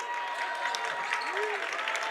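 Waupun home crowd at a boys basketball game against KML, steady applause and cheering filling the gym with a commentator talking over it and sneaker squeaks.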